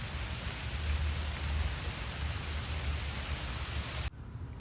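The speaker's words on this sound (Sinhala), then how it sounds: "මේ ඊයේ රෑ ඇහෙනවද වැස්සේ සද්දේ?" Steady rain falls at night in a garden of gardenia flowers, a dense even hiss of drops close by that drops away sharply near the end.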